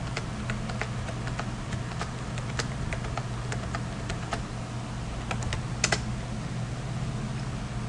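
Numbers are typed on a computer keyboard, a steady run of light, close clicks and taps over a faint background hum, with a couple of louder key strikes near the end and no talking.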